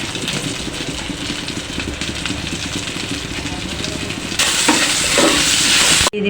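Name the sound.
dried red chillies sizzling in hot oil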